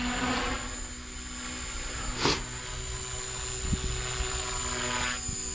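A 300X RC helicopter flying 3D maneuvers and hovering inverted gives a steady rotor and motor whine throughout, with a high continuous tone and brief louder swells as it flips, fairly close.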